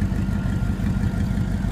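A 1991 Chevrolet Caprice runs with no exhaust fitted, giving a loud, steady, rough low rumble that holds unchanged throughout with no voices.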